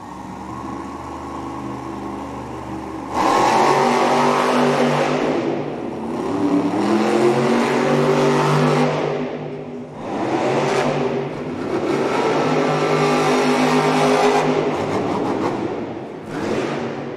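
Weston Anderson drives the Grave Digger monster truck on a timed Monster Jam racing run in an arena, its engine revving hard in repeated loud surges with brief drops between, close and alone.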